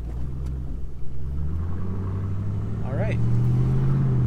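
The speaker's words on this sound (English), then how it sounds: "Car's rolling, which is good." A Ford Mustang rolls and turns slowly after a tie rod replacement, a low engine rumble heard from inside the car, with a short spoken remark over it.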